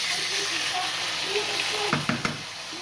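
Chicken sizzles steadily in hot oil in a pan for a coconut-curry dish, a continuous bright hiss with a few soft knocks of stirring near the end.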